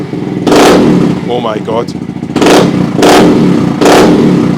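A 2023 Honda Monkey motorcycle fitted with a Yoshimura RS3 exhaust, spark arrestor removed, gives three loud, close throttle blips over a lumpy idle, and a man briefly exclaims between revs.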